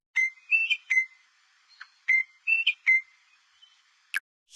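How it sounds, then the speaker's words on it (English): A rosella calling in a series of clear, bright whistled notes, short paired phrases repeated with brief pauses, close and alone without any talk. "Rosella"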